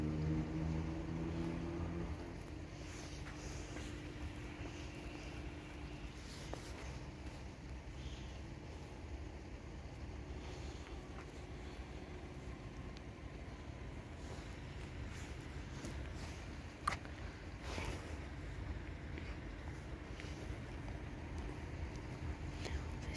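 An Impuls passenger train rolls slowly past, a steady low rumble that holds level for the whole stretch, with wind buffeting the microphone throughout.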